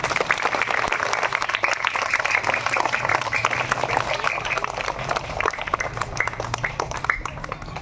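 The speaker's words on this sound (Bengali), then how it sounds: "সবাই তানিশার জন্য হাততালি দাও।" A school audience applauds student Tanisha Mondal with steady, dense clapping that runs throughout at close range, with some voices mixed in.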